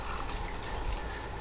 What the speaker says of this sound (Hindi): ये पानी लाए हैं तो मैं थोड़ा सा पानी डालती